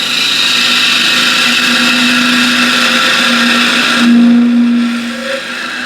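Spindle gouge taking a light cut on walnut spinning on a wood lathe, a steady loud whirring hum with a faint rattle, shifting pitch briefly near the end as the tool lifts.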